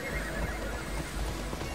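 A horse neighs and whinnies in the action-adventure game Immortals Fenyx Rising, a loud close whinny with stamping hooves and clip-clop over a dense ambient game background.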